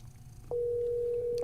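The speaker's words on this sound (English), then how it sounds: "Okay, we calling Amaya" A phone call's ringing tone: a single steady electronic tone sounds for about a second over faint background noise, with no talk.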